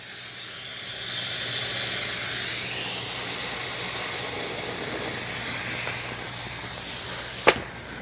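A Shark steam mop hisses steadily as it releases steam, a continuous broad rush that holds for several seconds before a sharp click near the end.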